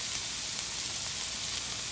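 Shallot dropped into bubbly hot oil, a bright, dense and constant hiss of frying close by, steady in level with no voices.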